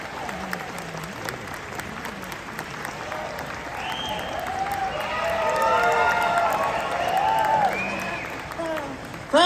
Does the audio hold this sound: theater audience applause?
yes